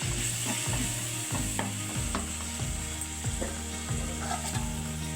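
Onions and chopped tomato with salt and turmeric cook in a pan for a meal maker gongura curry, a continuous close sizzle under a regular mechanical clicking rhythm, with light stirring scrapes throughout.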